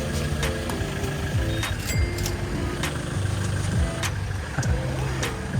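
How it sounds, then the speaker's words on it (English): A small three-wheeled tuk-tuk carries passengers through city streets at night, its mid-pitched engine droning steadily up close, with passing traffic noise and a few faint beeps in the background. "It's a cozy little tuk-tuk."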